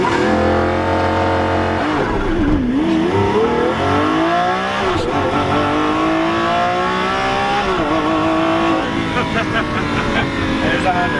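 A Lamborghini supercar launches hard in thrust mode, its engine climbing through repeated rising revs with brief dips at gear changes, loud and close inside the cabin while people talk over it.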